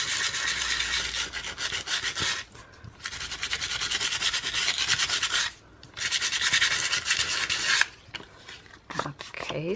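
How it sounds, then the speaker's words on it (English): Sandpaper rubbing across the back of a playing card, a close scratchy rasp in steady back-and-forth strokes with a few short pauses between passes. "so I'm gonna use the back side of the card, and I'm just gonna sand it"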